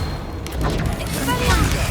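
A Bombarda blasting spell from Hogwarts Legacy detonates in a dense, rumbling explosion, with a voice speaking over the blast.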